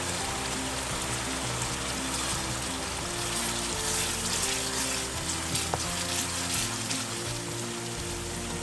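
Moong dal frying in a pan, a steady dense hiss and crackle that stays even throughout, with faint background music underneath.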